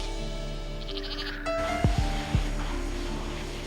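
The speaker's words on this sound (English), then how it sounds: "if I've got my sheep round me, I'm all right" Sheep bleating close by on a farm, with a few sharp, wavering calls in quick succession over a quiet outdoor background.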